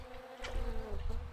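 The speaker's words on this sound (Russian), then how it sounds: "Я вот мух слышу." Flies buzz close by in the video game Sniper Ghost Warrior 2, a steady droning hum that swells slightly as an insect passes, alone without talk.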